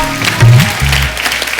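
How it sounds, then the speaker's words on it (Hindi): Studio audience applauding on the Kapil Sharma Show, a dense, loud wash of clapping that swells briefly, with low musical tones running beneath it. "जोरदार तालियां उषा उत्तप जी के लिए।"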